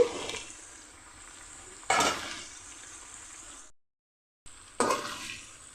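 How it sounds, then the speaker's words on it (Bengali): Young jackfruit frying with spices in a pan, bursts of loud sizzling as the pieces are stirred, separated by quieter stretches and a brief silent gap. "এঁচড়ের সাথে মশলাটা ভাজা হয়ে গেল"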